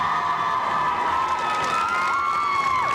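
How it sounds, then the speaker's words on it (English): At a high school drill team event, a crowd cheers steadily with whoops and shouts, a continuous wash of voices with some rising calls near the end. "the enthusiasm of a few cheers from the crowd"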